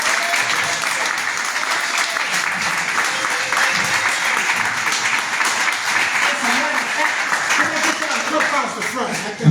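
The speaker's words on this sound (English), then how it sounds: "please give yourselves a round of applause and stand on your feet" Sustained loud applause from an awards event audience of Memphis musicians rising to their feet, a dense, steady wash of clapping and crowd noise lasting several seconds, with voices mixed into the din.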